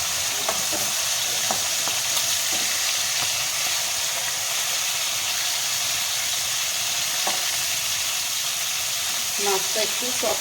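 Pieces of freshwater eel (baan fish) frying together in a large pan give a steady, dense sizzle and hiss throughout, with occasional utensil clinks and scrapes, and faint voices now and then.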